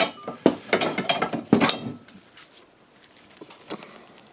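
A wrench working on a Milwaukee angle grinder during a repair of its broken gear housing, making a few loud, close metallic clattering bursts that fade into quieter scattered clicks.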